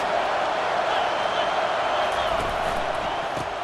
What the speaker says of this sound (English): this crowd is letting them have it